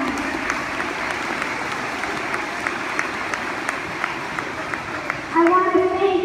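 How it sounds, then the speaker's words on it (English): Steady applause for Sam from people gathered at an outdoor play day, a continuous wash of clapping with crowd voices mixed in, and a louder burst with a raised voice near the end. "So a big round of applause for Sam."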